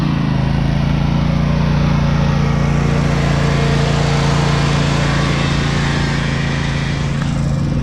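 A small RC truck engine screams at full throttle in a loud, continuous high buzz as it pulls out of a sand pit on wider front tires.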